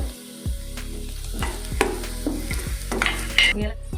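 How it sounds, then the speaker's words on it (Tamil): Pistachios added to hot ghee in a pan for a tapioca halwa, a continuous sizzle with repeated spoon scrapes and knocks while stirring, close and fairly loud. "இப்போ பிஸ்தா போடுறேன்."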